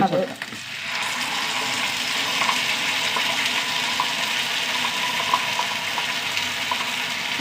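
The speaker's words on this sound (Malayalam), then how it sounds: "ഉള്ളി ഒന്ന് നന്നായി മൂത്ത് വരട്ടെ" Onions frying in a pan for a home-cooked dish, a steady close sizzle and crackle throughout, with faint stirring scrapes early on and no talking.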